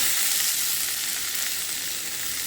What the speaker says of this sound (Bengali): নুন দিয়ে টমেটোটা দিয়ে ঢাকা দিয়ে ভালো করে ভাজবো